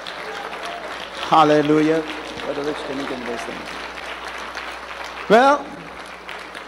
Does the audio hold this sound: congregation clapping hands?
yes